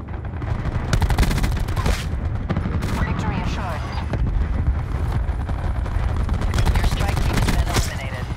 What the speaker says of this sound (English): Yeah, they're shooting our bodies.